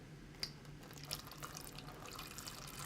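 Water poured into a bottle for a liquid level sensor, faint drips and a soft continuous trickle with a low background hum, quiet and close.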